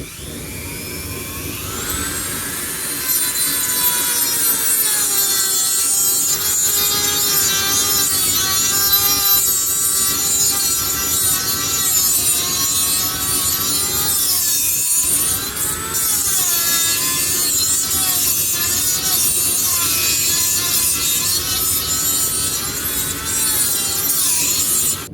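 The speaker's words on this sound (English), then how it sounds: "We're just going to use our Dremel rotary tool." A Dremel rotary tool grinds a slot in a steel mower blade being shaped into a Bowie knife, giving a continuous high whine with shifting pitch as the bit bites in, loud and close for about twenty seconds.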